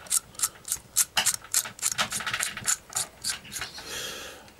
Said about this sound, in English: take the little telescopic tube and screw that right in just now